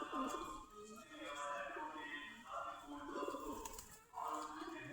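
Deshi Giribaz pigeons sitting in their loft boxes, a steady layered murmur of overlapping coos and soft calls, fairly faint and continuous, with a voice speaking over them.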